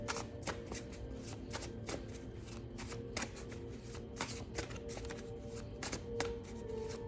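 A deck of oracle cards being shuffled by hand, a steady run of crisp riffling flutters and taps repeating rapidly, close and fairly quiet, with no one talking.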